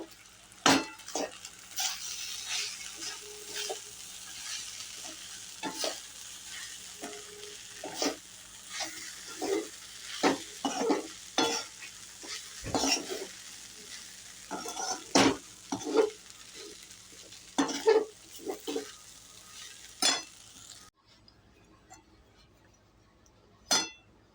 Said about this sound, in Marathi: इथे टाकायचे मीठ आणि मस्त मिक्स करून घ्यायचे